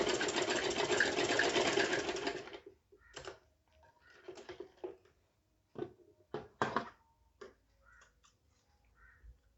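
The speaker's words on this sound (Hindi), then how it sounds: "इस तरह से रख के सिलाई कर दें।" A sewing machine stitches a frock, running in a steady loud whir for about two and a half seconds, then stopping; scattered faint clicks and short bursts of handling noise follow.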